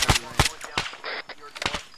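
Sniper rifle shots ring out in a close-range ArmA 3 firefight, several sharp cracks spaced irregularly and loud up close, with radio-style voices talking between them.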